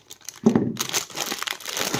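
Plastic bags crinkle at a hobby desk while a Shenlong MG model kit is being built, with a sharp crumple followed by steady, close crackling rustle and no speech.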